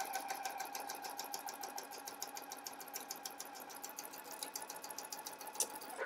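A sewing machine runs steadily as it stitches a second reinforcing line along a pants seam in fabric. The motor hums continuously with a rapid, even needle rhythm throughout, and nobody speaks.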